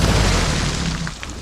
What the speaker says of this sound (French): les derniers mots de Witt ont été noyés par une nouvelle explosion d'eau